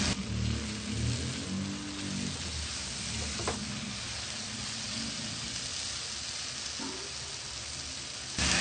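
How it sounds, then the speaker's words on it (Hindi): Mash dal being fried in oil until the oil separates, a continuous close hissing sizzle with faint stirring scrapes, steady and even throughout with no talk. "ऑयल ऊपर आने तक हम इसको भूनेंगे।"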